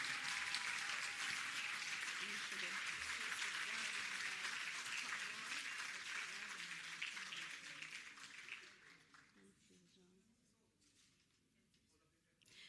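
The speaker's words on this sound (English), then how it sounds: "A round of applause for Shannon." Sustained audience applause fills the hall at a PEP scholarship awards ceremony, dense and steady for several seconds before tapering off, with faint voices underneath.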